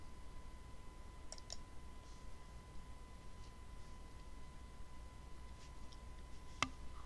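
A single mouse click starting a test run in Robot Framework, faint and isolated against a quiet room with a steady electrical hum, plus a few soft ticks earlier.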